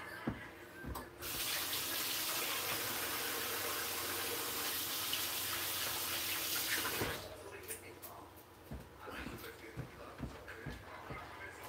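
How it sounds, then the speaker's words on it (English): Water gushes from a kitchen tap for about six seconds as hands are rinsed underneath, then cuts off, followed by faint drips, shuffling and small handling clatters nearby. "I'm just going to wash my hands."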